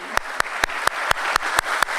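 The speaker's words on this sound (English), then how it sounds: "Can we please have a big round of applause?" Audience at a stock exchange listing ceremony clapping along in a steady rhythm, eight evenly spaced sharp claps over a low background wash of crowd noise.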